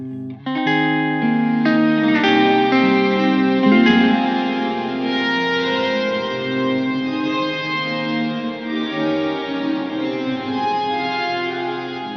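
A Strymon Cloudburst reverb pedal set to Forte washes sustained, harmonically rich chords in lush reverb, a steady ambient swell with shimmering overtones that lingers without any talking.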